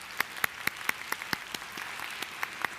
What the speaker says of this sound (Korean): 격려의 박수 한번 보내드리지 않겠습니까?